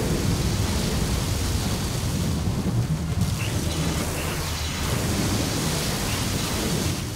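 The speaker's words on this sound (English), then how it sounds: "Hey, now the storm's over." Thunderstorm in Gears of War 4, steady loud rain hiss with a deep rolling thunder rumble throughout, no voices.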